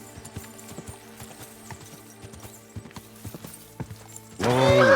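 A coal-black horse in a video game walks with steady clip-clopping hoofbeats, close and clear over a low hum, ending in a sudden loud whinnying neigh.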